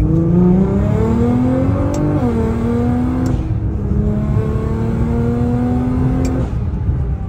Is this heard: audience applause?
no